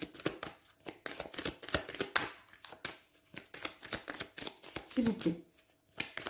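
Tarot cards being shuffled during a reading, giving quick papery riffles and flicks in close, uneven bursts while someone speaks French over them almost throughout.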